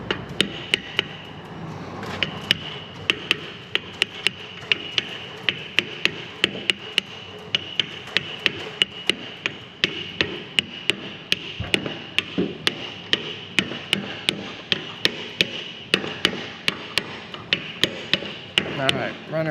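Loud, rapid metallic hammer strikes driving bolts into metal ring out in irregular bursts, close by, during a John Deere 450G dozer transmission repair, with occasional voices in the background.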